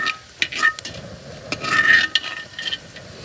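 Pork skin cracklins frying in hot oil in a basket fryer, a steady bright sizzle with scattered pops and occasional metal scrapes of the basket, close and continuous.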